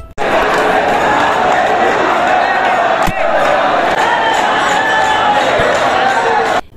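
Dense crowd of devotees inside the Banke Bihari temple in Vrindavan during Holi, a loud, continuous roar of many voices shouting and cheering at close range, with a sharp clap or thump about midway.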